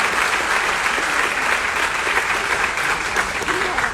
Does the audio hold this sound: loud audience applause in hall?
yes